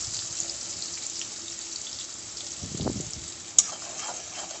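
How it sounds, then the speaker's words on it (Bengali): Onions frying in oil with black cumin, a soft steady sizzle close by, with a brief duller scrape of stirring in the middle and a single sharp click near the end. "পেঁয়াজটাকে একটু লাল করে ভেজে নেব"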